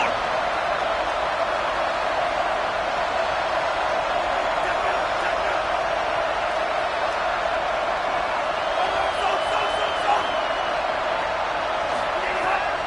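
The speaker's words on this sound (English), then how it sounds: "Crowd getting this defense whipped up on 3rd down" Stadium crowd in a college football video game roaring steadily on a 3rd down, a constant loud wash of cheering with no breaks, a commentator talking over it.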